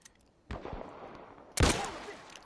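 Two sharp gunshots ring out in The Last of Us Part 1, about a second apart, each a loud close crack with a short echoing tail, and the second one is stronger.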